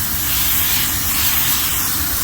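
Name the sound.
spraying to clean a walk-in freezer coil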